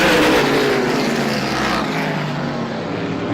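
Two stock race cars, including Johnny K's, run side by side down the front straightaway at Star Speedway, a loud close engine roar that fades slightly as they pass.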